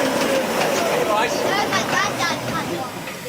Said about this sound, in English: The train's about to leave.